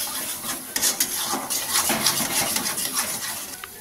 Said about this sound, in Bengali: এক চিমটে জাস্ট সামান্য একটু হলুদ দিয়ে আবারও কিছুটা টাইম নেড়ে নেব